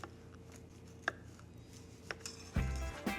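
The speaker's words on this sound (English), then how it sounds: "Just make a few slices." Knife cutting through gingerbread cake into squares, a few soft, separate chopping taps against the pan, close and faint, with a heavier clunk near the end.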